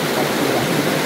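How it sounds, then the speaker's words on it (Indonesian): Fast-flowing water of the Cicatih river near Batu Karut, a dense, loud, steady rushing wash heard close with no voices. "Aliran airnya deras banget."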